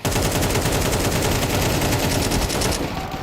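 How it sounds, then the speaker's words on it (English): Dense automatic rifle fire in Counter-Strike 2, a competitive esports match, rattles in a rapid unbroken stream of loud shots for the whole stretch, ending abruptly. "They didn't connect any of those 60 bullets unloaded into the smoke there"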